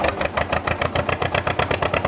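A tractor reversing, its engine running with a steady, pulsing mid-pitched throb and rapid regular beats close by, loud and continuous with no voices.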